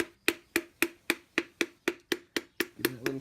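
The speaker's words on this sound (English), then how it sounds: "Now all I'm gonna do is just tap this with this end of this hammer here." A hammer taps a piston down into an engine cylinder: twelve crisp, evenly spaced metallic knocks, close and clear, with no talking.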